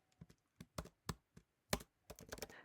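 Python code being typed on a computer keyboard: about a dozen crisp key clicks in an irregular rhythm, fairly close and clear, with a short quick burst near the end and no voice over them.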